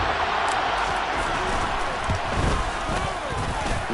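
Stadium crowd in the Madden NFL 23 football video game roaring after a touchdown, a dense, steady wall of cheering that holds at an even level for the whole stretch with no clear voices standing out.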